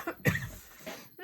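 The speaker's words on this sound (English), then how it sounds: "why do I have to always cough or sniffle as soon as the video starts?" A single close, fairly soft cough, with a brief throat-clearing sound after it, in a quiet room during a card-making session.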